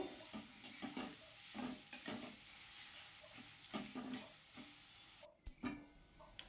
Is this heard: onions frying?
yes